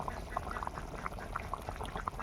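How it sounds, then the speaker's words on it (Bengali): A pot of broiler chicken curry starting to boil, with a low simmering hiss and a scatter of distinct bubbling blips and pops, heard close up and fairly quiet without any voices. "দেখতে পাচ্ছেন সবে ফুটতে শুরু করেছে"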